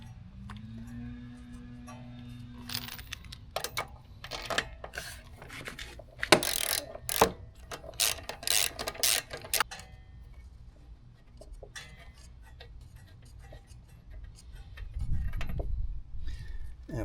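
A 5/8 socket on a ratchet loosens the spark plug of a Briggs & Stratton 550EX lawn mower, close metallic clicking in quick bursts, followed by some shuffling and a low thump, with no talk.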